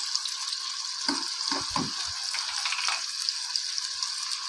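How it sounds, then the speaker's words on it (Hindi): Oil sizzles in a pan in a steady, bright hiss for aloo gosht, close and continuous, with a few soft low knocks of stirring beneath it and no voices. "इसको बस थोड़ा सा हमने फ्राई करना है, ब्राउन नहीं करना है इसको, बस फ्राई करना है।"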